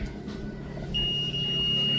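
A continuity tester buzzes across a shorted diode inside a Makita welding machine: a steady, piercing high tone starts partway through and holds unbroken over a low background hum.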